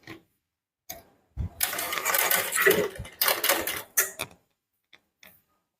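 A sewing machine stitching a frilled three-layer frock, whirring in short close bursts separated by pauses, with a few faint clicks at the start and end.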